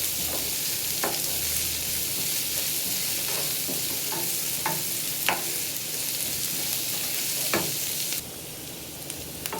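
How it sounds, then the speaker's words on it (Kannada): Onions frying in a pan for pasta, a steady close sizzle running throughout with occasional scraping stirs of a spatula, ending with a slightly quieter stretch. "ಈಗ ಈರುಳ್ಳಿ ಚೆನ್ನಾಗಿ ಫ್ರೈ ಆಗಿದೆ."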